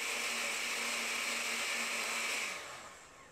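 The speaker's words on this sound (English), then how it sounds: "I'm just going to mix them all together and blend them" A blender whirs steadily as it purees leaf pulp mixed with dryer lint for homemade paper, a loud continuous motor drone that winds down and fades near the end.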